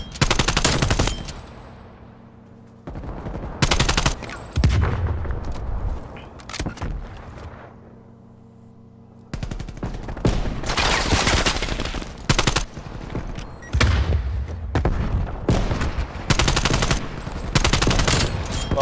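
First-person shooter gunfire in bursts: loud, close automatic volleys broken by short quiet gaps, then a dense cluster of rapid fire toward the end, with no voices.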